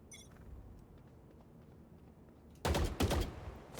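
Burst of rapid video game gunfire in Party Animals breaking in loud and close after a quiet stretch, several sharp overlapping shots clustered over about a second.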